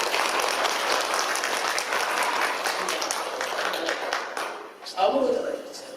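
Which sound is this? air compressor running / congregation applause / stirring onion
congregation applause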